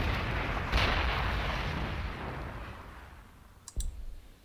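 Artillery fire in the strategy game Warhammer 40k Gladius, Imperium mod, heard as a rumbling boom that slowly fades, followed by a short sharp click or shot near the end.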